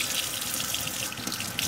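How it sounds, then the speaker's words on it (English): Warm water runs steadily from a tap into a sink during a barber chair rust removal job, a continuous close hiss and splash with no talking over it. "get a little bit of warm water here"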